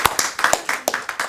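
Audience members clap for speakers at a Crimea deportation anniversary event. The claps are close, distinct and rhythmic, about seven of them in quick succession, with no voices.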